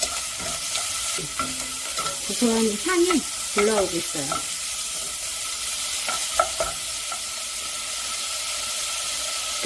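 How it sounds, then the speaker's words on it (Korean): Beef stir-frying in oil in a pot for Korean beef and radish soup sizzles steadily throughout, a continuous bright hiss with occasional stirring clatter while someone speaks over the first half. "이 고기의 볶는 정도는 고기의 이런 붉으스름한 색깔이 다 없어질 때까지 볶으시면 됩니다"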